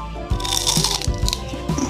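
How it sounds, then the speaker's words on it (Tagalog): Crispy seaweed chips are bitten and chewed close to the microphone, giving several sharp, loud crunches in an irregular rhythm over about two seconds, with no talking. "crispy seaweed chips"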